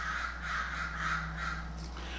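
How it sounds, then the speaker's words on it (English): Crows caw outside in a steady run of about five harsh calls. They sound somewhat distant and faint over a constant low indoor hum. "do you hear that crows outside?"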